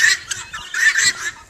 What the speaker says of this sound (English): Why is there a chicken with you guys?